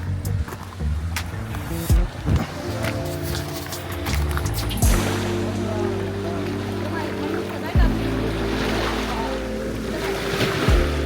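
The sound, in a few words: sea waves breaking on the shore in Italy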